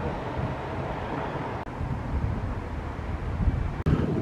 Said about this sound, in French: qu'il y a du vent